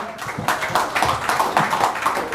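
A seminar audience at a Facebook ads training session claps, a short burst of scattered hand claps in a room, fairly loud.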